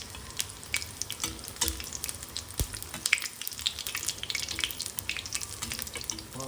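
Ridge gourd fritters sizzle in hot oil with oil spread over the top, a dense crackling hiss with scattered pops and a few soft clinks of a utensil, steady and close.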